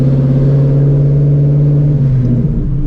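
Supercharged Shelby GT350 with an ESS G3R kit, heard while driving: a loud, steady, deep engine drone with a rich low rumble, holding constant then easing slightly near the end, close and without talk.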